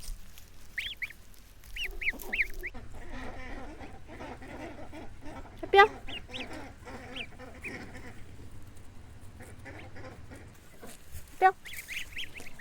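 A group of young goslings on a farm sends up repeated high peeping calls, with a few louder honks standing out, against a low background rumble.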